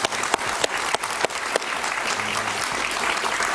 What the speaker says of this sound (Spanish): Un aplauso para el presidente Uribe.